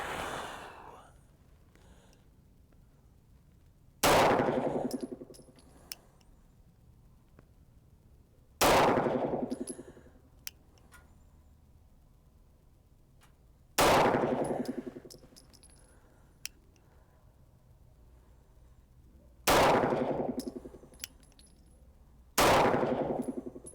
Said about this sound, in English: So this will be 6 rounds of T-Series from my 3-inch 1911 over the chronograph.